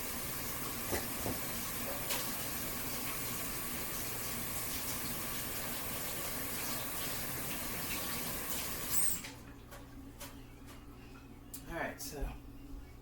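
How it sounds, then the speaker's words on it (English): Tap water runs steadily while hands are washed under it, a broad continuous gush that stops abruptly partway through, followed by quieter handling noises and faint clinks in a kitchen. "Let me go wash my hands."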